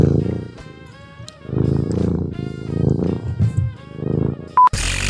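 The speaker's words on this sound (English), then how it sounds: "did you hear him purring?" A cat purrs in low, rumbling rolling pulses close to the microphone, interrupted by a brief sharp tone and a loud burst of noise near the end.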